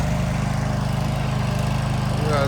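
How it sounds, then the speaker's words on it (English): A gas-powered auger drilling holes for deck footings runs as a loud, close, steady pulsing engine drone, with no one speaking over it. "My guys are drilling, as you can see."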